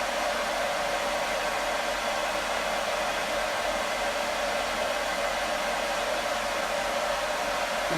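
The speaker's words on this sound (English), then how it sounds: "this is a proper hair dryer for dogs" A dedicated pet hair dryer blows a steady, loud, broadband whoosh while a dog is being dried, continuous and unchanging for the whole stretch with no voices.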